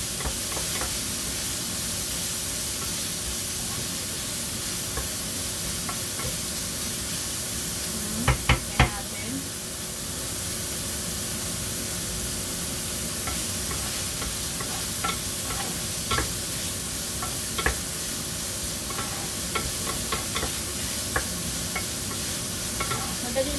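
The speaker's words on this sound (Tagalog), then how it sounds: "Pag-brown natin ng kaunti bago natin ilagay ang chopped tomato." Ingredients browning in a pan on an induction cooker, with a steady sizzle and a cluster of sharp spoon knocks and scrapes from stirring partway through, close and continuous.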